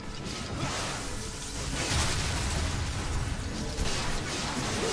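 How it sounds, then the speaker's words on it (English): Explosions and bursts in the action game Ninja Gaiden Sigma 2, a dense, continuous run of loud booms and whooshing blasts overlapping one another with no pauses for the full stretch. "notice how those explosions, even when I block, they just kind of nick me a little bit"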